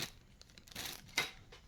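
A plastic bag is handled close by, giving a few quiet, short crinkling and rustling bursts.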